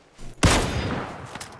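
Gunfire in the video game PUBG: one sharp, loud shot bursts out and then rings into a sustained rolling echo that fades slowly.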